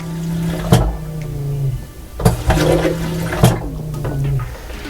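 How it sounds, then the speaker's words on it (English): A marine toilet on a boat being winterized flushes three times in quick succession. Each flush gives a sharp pump clack followed by a gurgling rush of water, heard close up. "Let me flush it a couple more times."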